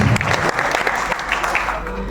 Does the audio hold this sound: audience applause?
yes